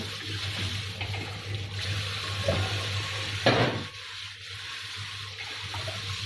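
Rinse water being poured off washed Japanese rice, a steady close splashing stream with a brief louder gush midway before it thins out.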